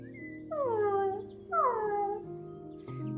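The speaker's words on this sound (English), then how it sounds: "Then she heard a strange sound, a little whimper." A dog whimpers in two drawn-out, falling whines, soft and close, with a faint third sound at the end; no talking over it.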